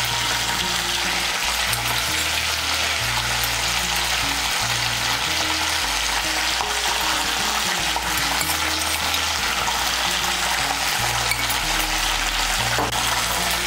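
Ginger, cumin and coriander paste frying in oil, a steady dense sizzle that runs nonstop, close and loud, with faint scraping of a spoon stirring underneath.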